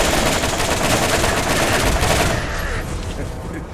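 Dense, rapid machine gun fire from Borderlands 1 rattles loudly and almost without a break, easing slightly toward the end.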